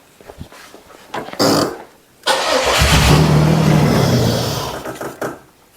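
A 1996 Chevrolet Camaro with a 3.8L engine and a failed fuel pump cranks briefly, then catches and runs loudly up close for about three seconds before it abruptly dies.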